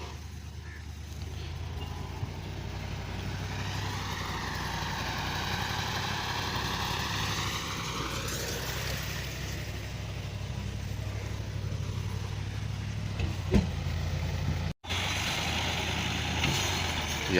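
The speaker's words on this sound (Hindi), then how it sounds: "गाजी ट्रैक्टर इसके साथ है।" Ghazi tractor hauling a large trolley of straw in a village, its engine idling with a steady low diesel rumble, moderately close, with a brief clatter near the end.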